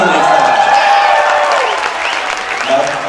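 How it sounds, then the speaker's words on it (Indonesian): An audience at a stand-up comedy show claps loudly and continuously, a dense wash of applause that holds steady and then tapers slightly. "kalau ini mohon maaf, nggak perlu tepuk tangan"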